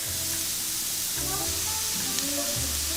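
Onions and carrots fry in a pan with a steady, close sizzle that fills the whole stretch, with a few soft clinks and stirring sounds over the top.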